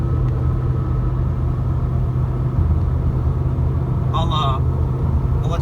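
A Nissan Altima that is down on power drives at about 50 in third gear, its engine a steady close rumble with constant road noise and a few brief higher chirps near the end.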